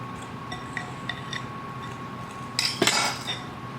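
Powdered sugar, milk and vanilla extract being mixed in a bowl, with light clinks and scrapes of a utensil against the dish, a few soft taps followed by a brief louder burst of clinking near the end.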